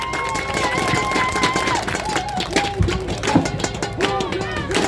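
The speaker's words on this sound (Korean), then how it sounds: "힘찬 박수로 환영해 주십시오." A crowd claps and cheers at a Democratic Party election campaign launch in Incheon's Seo-gu district, loud continuous applause mixed with crowd noise and tonal music or voices running underneath.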